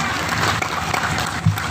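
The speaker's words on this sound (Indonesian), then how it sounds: "Tepuk tangan untuk Indonesia." Audience applause at an Indonesian religious sermon, a dense steady wash of clapping from a crowd sustained throughout, fairly loud and close with a slight swell near the end.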